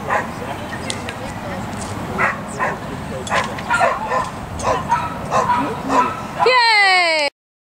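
A dog barks and yips repeatedly in short bursts amid close household chatter and children's voices, ending with a brief whimpering, whining note.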